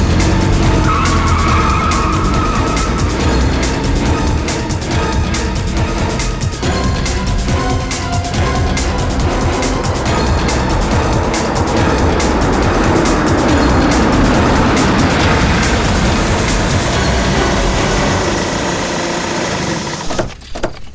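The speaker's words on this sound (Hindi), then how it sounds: "निशा गाड़ी स्टार्ट करो।" A car revving hard and tearing away with loud tyre squeal and skidding, a continuous roaring engine and screeching rubber filling the whole stretch, ending abruptly.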